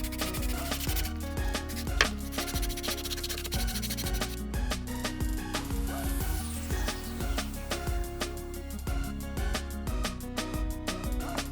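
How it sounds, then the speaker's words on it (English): Hand sanding wood with 120 grit sandpaper for finishing touches, a close, continuous scratchy rubbing with quick repeated back-and-forth strokes. "With 120 grit sandpaper, I do the finishing touches."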